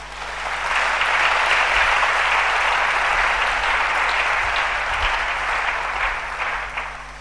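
A church congregation bursts into sustained, loud applause acclaiming the name of Jesus, a dense wash of clapping that swells quickly, holds for several seconds and tapers slightly at the end.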